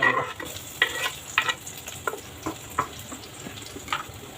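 Tomatoes going into onions frying in a pan: a continuous sizzle broken by a series of sharp stirring scrapes and clicks, close and fairly loud.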